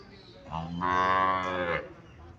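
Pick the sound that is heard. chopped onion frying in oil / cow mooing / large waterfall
cow mooing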